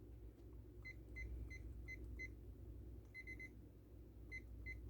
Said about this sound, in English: We're going to set our timer.